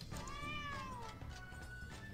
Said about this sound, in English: This cat's so cute.